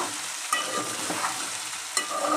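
Okra and onion sizzle in a frying pan while being stirred, a constant hiss with a couple of sharp scrape or tap accents, near and moderately loud, no voices.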